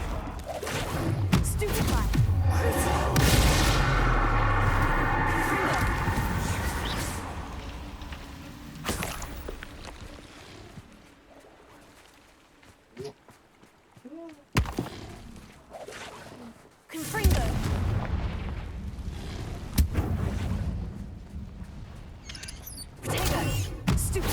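Spell-casting combat in the video game Hogwarts Legacy, with bursts of magical blasts, impacts and clattering effects over swelling music, loud early and then sparser sharp hits later on.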